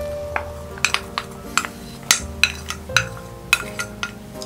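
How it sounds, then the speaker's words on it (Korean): Cucumber and carrot pieces tipped into a bowl of boiled, drained macaroni make a string of light clinks and soft knocks against the dish, scattered over about four seconds with nobody talking. "오이랑 당근도 다 넣어주세요."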